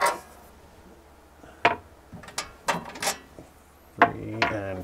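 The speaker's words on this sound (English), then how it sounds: "I already pre-loosened all the bolts. I'm just gonna kind of slip them all out." Metal bolts are slipped out of a Kenwood K-7000 receiver chassis, producing a handful of sharp, close clinks and rattles spaced irregularly, with a short metallic resonance near the end.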